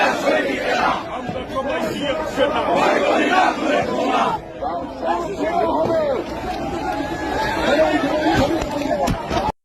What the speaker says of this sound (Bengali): বিএনপি নেতার স্লোগান দিতে দিতে দৌড় দেওয়া